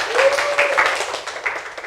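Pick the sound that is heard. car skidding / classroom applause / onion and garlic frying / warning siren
classroom applause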